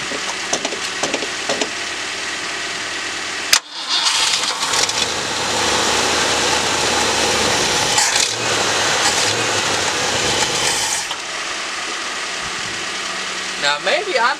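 A 1965 Ford Galaxie 500 with jumper cables attached cranks over, its engine churning loudly and steadily for several seconds without catching, with people talking before and after.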